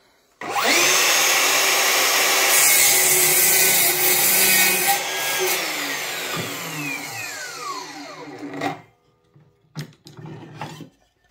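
A Bosch Professional Biturbo GCM18V-216 cordless miter saw spins up and cuts steadily through wood for several seconds with a loud whining roar, then winds down, followed by a few brief clatters.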